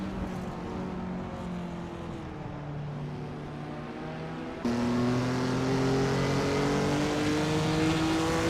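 A 1957 Ferrari 250 Testa Rossa racing in a video game, its engine droning steadily and then jumping in pitch and loudness midway as it accelerates, with other race cars around it.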